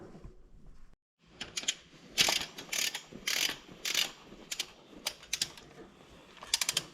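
Ratchet wrench tightening cylinder head bolts on a John Deere 4840 tractor engine during an overhaul, giving close, bright bursts of rapid clicking in uneven spurts, with short pauses between pulls.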